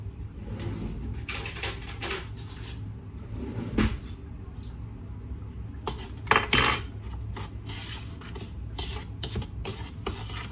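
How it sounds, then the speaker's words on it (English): Metal spoons clinking and jangling as they are taken out of a drawer for mixing rhubarb and strawberry pie filling, a scattered series of close, bright rattles and clatters with quieter pauses between them and no talk. "Let me get some spoons here."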